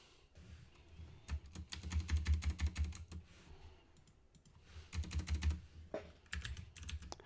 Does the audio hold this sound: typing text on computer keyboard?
yes